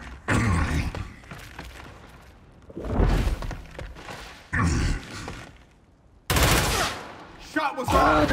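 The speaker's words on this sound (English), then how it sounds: "Shot was fired!" Bursts of automatic gunfire and shots from the tactical video game Gears Tactics, several loud volleys separated by short pauses, with game voice callouts between them.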